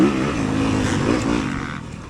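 Dirt bike engines rumble and rev together at an enduro race lineup in the Desoto National Forest, a steady loud motor drone with rising and falling pitch sweeps, no talk.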